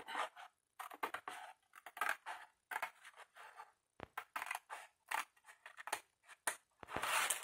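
A paper trimmer slicing a thin strip off a cardboard box, a run of close, crisp, rasping cutting strokes in short bursts separated by brief pauses.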